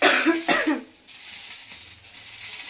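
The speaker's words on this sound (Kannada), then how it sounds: "ಬೀಜ ಸೀದು ಅಂದರೆ ಆ ಥರ ಕೆಮ್ಮು ಬರ್ತದೆ" Coughing fit from burnt seeds scorching in a pan during home cooking, two or three loud close coughs in the first second, then a quieter kitchen background.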